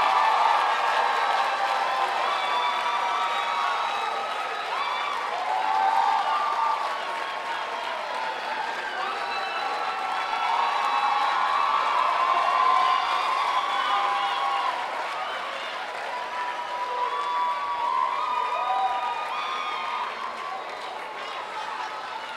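An audience at a medical college induction ceremony applauds and cheers steadily for over twenty seconds, a dense wash of clapping with scattered whoops and crowd voices that swells and eases in waves.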